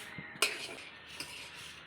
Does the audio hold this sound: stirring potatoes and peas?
yes